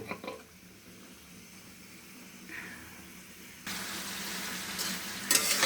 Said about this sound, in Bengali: ভেন্ডি দিয়ে দিলাম, সব ধরনের মশলা সব কিছু দিয়ে দিয়েছি।